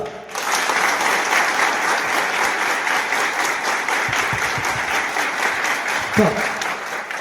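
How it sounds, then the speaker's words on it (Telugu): An audience claps loudly and continuously for several seconds, a dense, steady wash of applause with a few crowd murmurs mixed in. "చూపించండి మీ చప్పట్ల యొక్క మోత"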